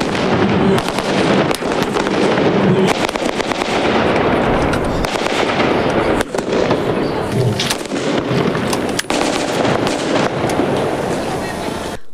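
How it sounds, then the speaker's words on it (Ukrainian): Blank rounds fired during a reenactment of a WWII battle for Chernihiv, 1941: loud, dense bursts of cracking gunfire and sharp reports overlapping continuously, with crowd noise and voices underneath throughout. "Стріляли хоча й холостими патронами, але це могло бути небезпечно."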